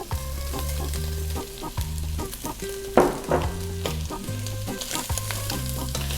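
Glutinous rice is stirred with beef and beef tripe in a hot pan, a close, steady sizzle broken by rhythmic scraping strokes of the spoon, loud and alone.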